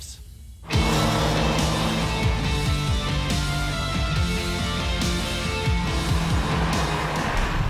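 A 2021 Hyundai i20 N hot hatch engine comes alive after a quiet start, then revs and pulls hard through several gear changes with rising and dropping tones, loud and close from inside the car.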